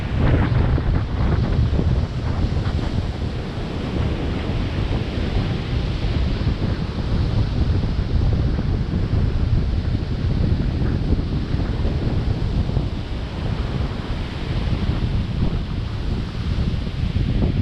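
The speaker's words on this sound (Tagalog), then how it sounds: "Grabe nga hangin." Strong, steady wind on Boracay island in the rainy season roars and buffets the microphone for the whole stretch, a continuous low rumble with gusty surges and no voices.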